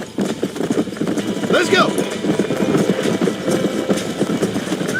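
A horse gallops in Red Dead Redemption, its steady hoofbeats clopping under a voice urging it on, with a brief whinny partway through.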